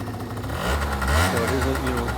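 A small Yamaha Zuma two-stroke pit bike with a stock exhaust starts up and runs, its engine chattering and swelling briefly in a loud, close, buzzy tone, with a person talking over it.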